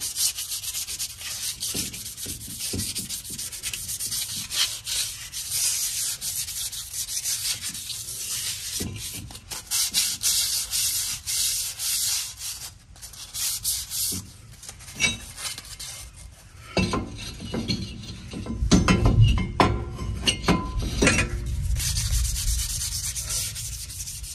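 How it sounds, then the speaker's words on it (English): Hand sanding of a rear brake part on a 2007 Ford Sport Trac with 400 grit sandpaper, a steady close scratchy rubbing that runs continuously and grows louder and harsher in the last stretch, with no talking. "I got some 400 grit sandpaper"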